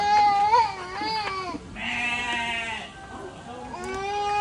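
A goat on a farm in Bandung bleats in a series of wavering, nasal cries, close and loud, with a child crying and adults talking in between.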